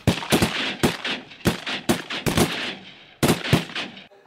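Shotguns blasting at ducks during a waterfowl hunt in Alberta, about eight close, sharp reports in quick, uneven succession, some shots overlapping, then silence.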